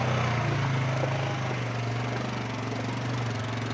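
A Polaris ATV engine drones steadily while being ridden along an off-road trail, a close, loud, even mid-pitched hum with no talking over it.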